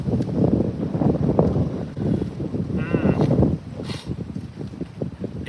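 Strong wind blowing outdoors at an open-air cooking spot, loud enough to keep a pan from heating; a heavy, continuous low roar with gusty buffeting across the microphone.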